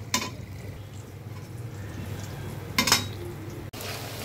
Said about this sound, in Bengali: বেগুনও ভাজা হয়ে এসছে